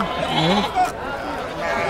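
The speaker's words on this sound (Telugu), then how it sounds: "ఇంకా ఇక్కడ గొర్రెలు అయితే ఉన్నాయి" A sheep bleats a few wavering cries nearby while people talk in the background at a weekly livestock market in Guduru.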